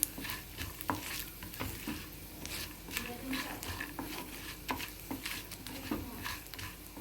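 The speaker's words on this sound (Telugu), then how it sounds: "అల్లం పచ్చిమిరపకాయ వేగన అవసరం లేదు, కొంచెం ఒకసారి తిప్పితే సరిపోతుంది." Ginger and green chillies are stirred briefly in a hot pan while making buttermilk rasam. A soft, continuous sizzle runs under light, scattered scraping from the spoon, and the sound stays quiet and close throughout.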